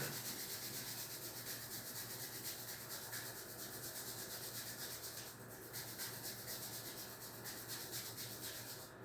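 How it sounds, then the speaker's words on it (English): Fingers rubbed briskly back and forth between each other, giving a soft, steady, dry friction hiss that continues alone and quietly throughout. "keep your fingers like this and rub between the fingers"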